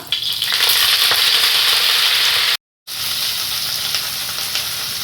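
Chopped shallots and washed drumstick leaves fry in a hot pan with a loud, steady hiss and sizzle, briefly cut to silence partway before the sizzling resumes just as strongly.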